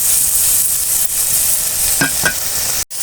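Chopped tomatoes cook and get stirred in a pan for a lentil-and-greens kootu, a loud, close, continuous sizzle with a couple of spoon scrapes toward the end, then a sudden brief cutoff.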